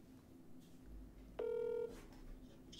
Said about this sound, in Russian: Ты опять Жожо звонишь?